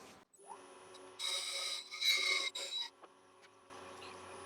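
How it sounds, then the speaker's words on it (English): Parting tool cutting through a small turned and waxed wood piece on a lathe: a dry rasping scrape in bursts of a second or so, with quieter gaps and a steady hum between cuts. "So we'll get this little guy parted off."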